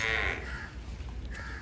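A dairy water buffalo in Multan gives a short, loud moo that fades quickly, followed by a fainter brief call amid quiet farmyard background.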